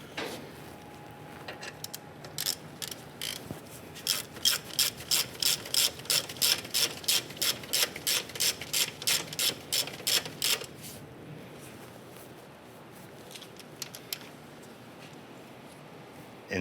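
A hand ratchet snugs the bolts on a 1995-2001 Ford Explorer front CV axle in a garage, with rapid, close pawl clicks coming in short bursts and then one longer steady run of even clicks before they stop.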